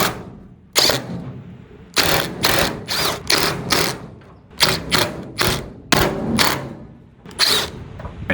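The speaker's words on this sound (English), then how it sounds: "now that we've loosened these bolts right here" Bolts loosened along the track of a garage door while fitting cable protectors: a series of loud, close metallic clacks and ratcheting bursts come in rhythmic clusters, separated by brief pauses.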